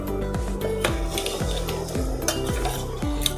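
A spoon stirs a bean and vegetable curry in a pot in a steady scraping rhythm. Strokes sweep repeatedly, close and clear, over a soft simmering sizzle, with no voices.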